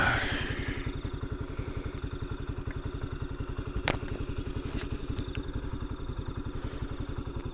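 A Honda CBR motorcycle engine idles steadily nearby with a rapid, even putter, plus a single sharp knock partway through and a few faint clicks.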